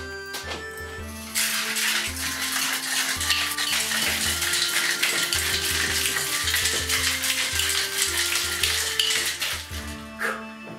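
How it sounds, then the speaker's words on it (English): A Painkiller cocktail made with Pusser's rum is shaken hard, giving a steady, loud, continuous rattle lasting about nine seconds before it stops. "Give that a shake."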